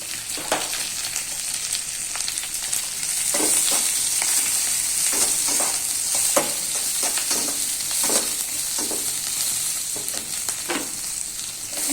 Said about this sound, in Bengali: এবার আমি ক্যাপসিকামগুলো ঢেলে দেবো।